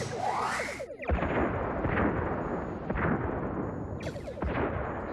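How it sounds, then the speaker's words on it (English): Photon torpedoes fire at enemy warbirds in a Star Trek film battle: a rising whoosh gives way to heavy, booming blasts that roll on with echo, and a second swish brings another loud impact. "Fire on all enemy ships. 1 photon each should do."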